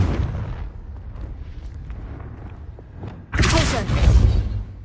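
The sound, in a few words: Confringo blasting spell explosion from a video game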